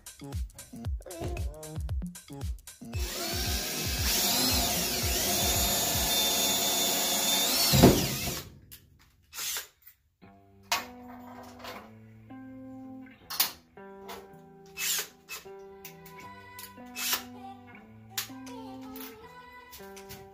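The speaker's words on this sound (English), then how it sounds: "we're going to start drilling out spot welds" A drill grinds in short bursts and one sustained run, drilling out spot welds in a 1977 Chevy Camaro's floor pan, followed by scattered knocks and taps of metalwork; close and fairly loud.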